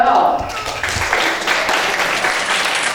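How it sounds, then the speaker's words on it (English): A children's library science-or-magic show fills with a broad, continuous wash of audience applause for the library helpers and librarians; a voice is briefly audible at the start beneath the clapping. "let's have a round of applause for your library and your librarians as well"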